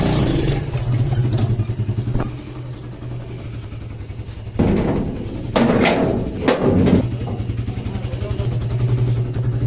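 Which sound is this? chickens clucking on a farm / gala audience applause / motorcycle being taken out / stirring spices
motorcycle being taken out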